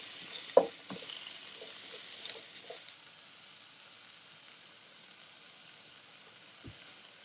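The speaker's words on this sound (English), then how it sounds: "Your wok needs to be on high because we want it to cook really fast. I'm going to saute these for about a minute" Ingredients for pad thai sauté in a hot wok over high heat, with a soft sizzle, a few stirring knocks early on, then a quieter steady hiss.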